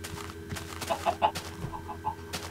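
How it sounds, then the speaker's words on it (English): A Minecraft chicken clucks in a short run of soft, evenly spaced clucks set in quiet game ambience, with no voices over it. "Hello, chicken."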